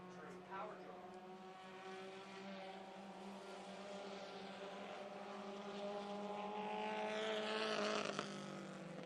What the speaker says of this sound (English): Newell drifting higher and higher on the racetrack in that orange and white number 26